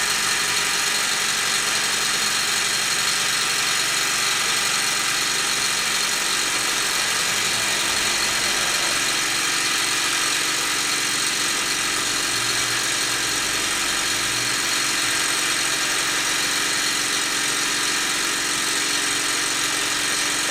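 A Mamod showman's toy steam traction engine drives a Meccano Ferris wheel, giving a steady, even mechanical hiss and whirr that runs continuously at a constant level with no breaks.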